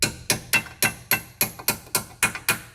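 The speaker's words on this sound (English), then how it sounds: "Tap it into place lightly, you shouldn't have to be too aggressive." A socket tapped onto a bolt on the front wheel hub of a 2006 Subaru Outback, about ten light, evenly spaced metallic hammer taps, sharp and close, with no talk.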